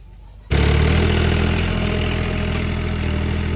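A tractor engine starts abruptly in a farm field and settles into a loud, steady idle with a low rumbling drone, close by and alone after a brief quiet moment.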